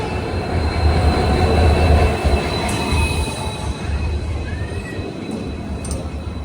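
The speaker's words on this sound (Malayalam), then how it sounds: "ഒരു വണ്ടി വരുന്നത് കാണാം. Madurai junction Rameswaram passenger." A Madurai Junction–Rameswaram passenger train pulls into Mandapam station on a single line, rumbling loudly and close with rolling wheel noise and faint high squeals from the wheels throughout.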